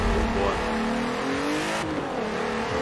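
A front-wheel-drive Volkswagen Golf TSI in the Forza Horizon 4 racing game launches in a drag race, its engine revving and pitching upward through gear changes, loud and continuous with a faint voice underneath.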